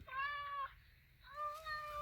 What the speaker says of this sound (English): It actually makes cat noises